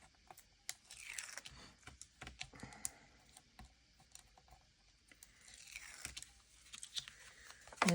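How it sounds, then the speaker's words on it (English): Backing paper is peeled off Tear & Tape adhesive during card-making, a series of soft crackling, ripping and crinkling bursts, close but fairly quiet. "Peel that paper off."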